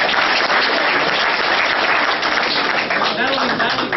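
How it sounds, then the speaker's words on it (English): An audience at a guest speaker's talk gives a loud, sustained round of applause, dense clapping filling the room with voices mixed in underneath. "Give them a big round of applause."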